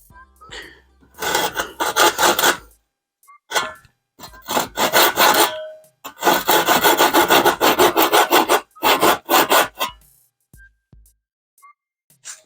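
A hand saw cuts through wood in close, rasping back-and-forth strokes, grouped into bursts of rapid rhythmic strokes with brief pauses between them.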